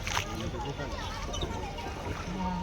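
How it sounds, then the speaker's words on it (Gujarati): A boat moving across Saputara lake, a hill-station lake, gives a steady wash of water and hull noise under continuous nearby voices. "આ બાજુ બોટ ચલાવે છે મિત્ર"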